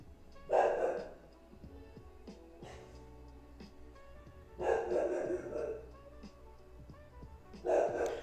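A dog barks in three separate bursts, a short woof near the start, another in the middle and one more near the end, with quiet room tone and faint tonal background sound between them.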